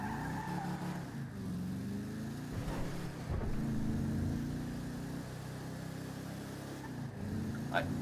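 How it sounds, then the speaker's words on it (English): Car driving in Grand Theft Auto Online on PS4, heard as a steady mid-pitched engine hum with shifting revs and brief skidding or tyre noise, continuous throughout at moderate level. "this is how much I suck at driving first person in a car"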